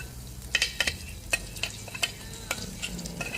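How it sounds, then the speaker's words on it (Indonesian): A blended chili spice paste sautés in a wok, sizzling softly while a spatula makes quick, irregular scraping and tapping strokes against the metal, close and fairly quiet. "Udah aku tuang bumbunya ke dalam wajannya, tumis aja sebentar."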